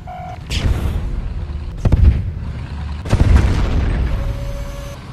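Heavy tank cannon blasts in the Tanki Online video game, three loud booming shots with rumbling tails, the second and third roughly a second apart, over steady game background noise.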